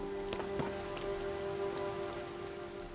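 Steady rain falling in the Zelda game Tears of the Kingdom, a constant patter with a few sharper drops, no talking.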